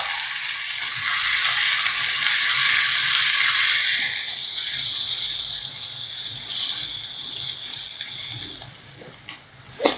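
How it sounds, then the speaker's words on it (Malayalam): Diced potato dropped into hot oil in a pan for a potato palak curry, giving a loud, steady sizzling hiss that fades over the last seconds, followed by a few soft clinks. "ആ പൊട്ടറ്റോ ആ എണ്ണയിൽ കിടന്നൊന്ന് മൂക്കും"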